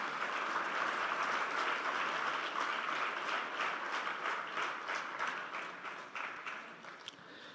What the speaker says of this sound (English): give a big round of applause for everybody joining us remotely